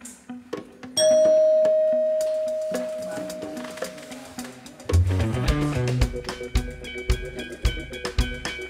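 Small bell rung at about one second as a signal, a single clear ding with a long ringing decay, followed by other tones and thumps in an indoor hidden-camera setting.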